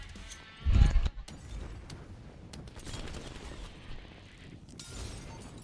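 Burst of XM4 rifle fire in Call of Duty Cold War, a loud close rapid volley near the start followed by scattered quieter shots and game noise.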